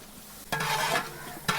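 Chopped tomato and shallots with turmeric hit a pan for a Kerala-style fish chili curry, a loud sizzle bursting in after a brief quiet start, with a stirring scrape and a second sharp flare near the end.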